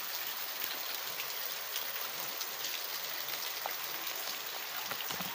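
Rain falls steadily at night, a dense, even patter of drops with faint scattered splashes, continuous and unbroken, with no one speaking.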